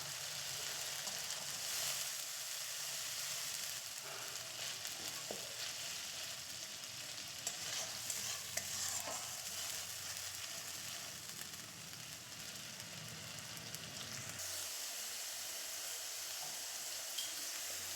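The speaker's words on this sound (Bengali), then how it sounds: "মশলাগুলো দিয়ে দিলাম, দিয়ে মশলাটাকে খুব ভালোভাবে বেশ কিছু সময় ধরে হাই ফ্লেমে কষিয়ে নেব" Ground spice paste frying in oil over a high flame, a steady low sizzle with scattered stirring clicks that carries on throughout, no speech.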